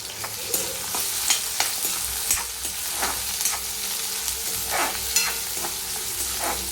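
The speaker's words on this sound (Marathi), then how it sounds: "तेल तापलं की त्याच्यामध्ये जिरं टाकायचं आणि कांदा आणि मिरचीसुद्धा त्यातच टाकायची." Cumin, chopped onion and plenty of green chillies frying in hot oil in a pan, a steady close sizzle with repeated scraping strokes of a spoon stirring through it.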